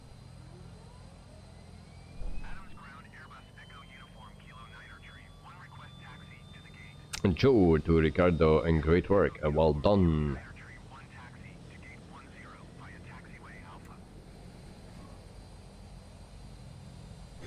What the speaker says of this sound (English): This is a very loud plane if you start that up